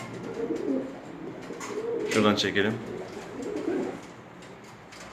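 Arab pigeons coo at close range, a cherished male with its mate, in a short burst of throaty calls that swells midway, with someone speaking briefly over it.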